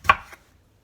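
A knife slices through a cucumber for pickles: one crisp, close chop on a board, followed by a faint second tap, then quiet.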